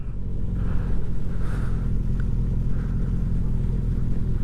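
Motorbikes on the NW200 race grid, among them a Kawasaki GPZ750, rumble steadily with low engine drone and occasional revs, a continuous mid-distance mechanical roar with no talk.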